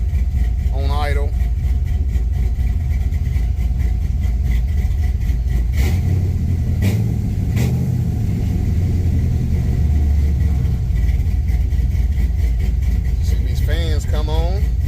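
An OBS truck engine fitted with 706 heads idling slightly lean, a loud, steady low rumble with a short rise in revs partway through, while a person talks over it at times.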